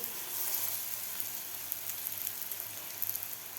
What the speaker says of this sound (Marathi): अशा प्रकारे आता आपल्याला हे मीडियम गॅसवर व्यवस्थित फ्राय करून घ्यायचे आहेत